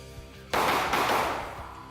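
A single sharp pistol shot at an outdoor shooting range, loud and close, with a burst of noise that decays over about a second and a half.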